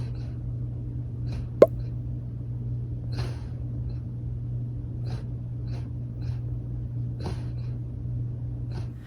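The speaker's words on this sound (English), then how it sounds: "My dog snores like a cartoon character." A dog snoring indoors, soft low snorts and raspy breaths repeating at an uneven rhythm over a steady background hum, with one sharp click early on.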